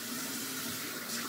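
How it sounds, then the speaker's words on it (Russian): Warm tap water runs steadily from a faucet into a sink while a face mask is rinsed off, a soft, even hiss heard alone. "Сейчас я ее буду смывать теплой водой."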